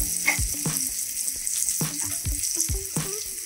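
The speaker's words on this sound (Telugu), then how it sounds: "ఒక స్పూన్ అల్లం వెల్లుల్లి పేస్ట్ వేసి కొంచెం ఫ్రై చేస్తుంది" Ginger garlic paste frying in hot oil for a fish masala curry, a steady loud sizzle with several sharp utensil knocks and stirring scrapes spread through it, close and with no talking.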